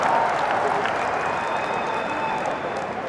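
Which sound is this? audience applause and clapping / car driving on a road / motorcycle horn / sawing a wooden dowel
audience applause and clapping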